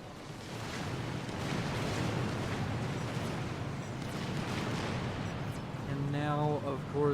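A Scathis artillery piece in Supreme Commander: Forged Alliance pounds a shielded base with a continuous rumbling barrage of heavy booms and crackling impacts, while a voice starts talking over it near the end.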